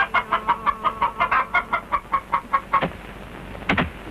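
A rapid run of close, rhythmic chicken clucks in a Dayak village in Borneo, about fifteen in a row, followed by a pause and a couple of louder squawks.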